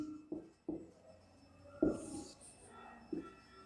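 Pen writing by hand on paper while working a maths problem, a few faint scratchy strokes and soft taps separated by quiet gaps, close and alone.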